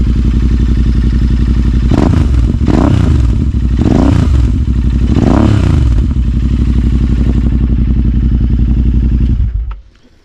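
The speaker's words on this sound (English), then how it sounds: "It's got no baffles in it, this one, so it's quite loud." A motorcycle engine with no exhaust baffles idles loud and close with a deep, steady rumble and several rising revs. It shuts off abruptly near the end, leaving quiet.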